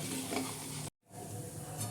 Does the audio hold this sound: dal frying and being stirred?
yes